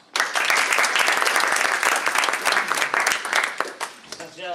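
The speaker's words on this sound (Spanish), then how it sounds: "demos paso a nuestro ponente con un fuerte aplauso" A crowd at a conference talk bursts into loud, sustained applause with many hands clapping close by, tapering slightly toward the end.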